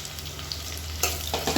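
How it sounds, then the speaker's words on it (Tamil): Mint, coriander and sliced onion sauté in an oiled pan for a coconut-milk mushroom biryani, giving a brief close sizzle with a few stirring scrapes. "இப்போ வந்து லேசாக வதக்கி விட்டுக்கோங்க"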